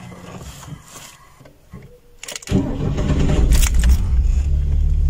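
A car engine cranks and catches after a transmission oil change, jumping from quiet workshop shuffles to a loud, steady idle that rumbles on to the end.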